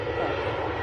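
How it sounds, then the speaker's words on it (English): A Ryanair airliner departs Manchester Airport with a steady, loud jet-engine roar that holds evenly throughout the short stretch, with no talking. "Oh, we have a Ryanair now departing."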